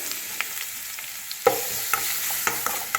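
Curry leaves, dried chilies and ginger fry in a pan as the base for a fish curry: a steady close sizzle with several sharp clicks and taps as the ingredients are stirred.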